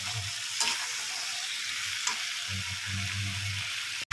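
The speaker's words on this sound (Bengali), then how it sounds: "এবার এর মধ্যে দিয়ে দিচ্ছি আলু আর কুমড়োটা, এবার একসাথে এটাকে কষবো।" Spiced potatoes and pumpkin sautéing in a pan, a steady hiss of frying with a few stirring scrapes and a soft low rumble partway through, close and fairly quiet, with no talking.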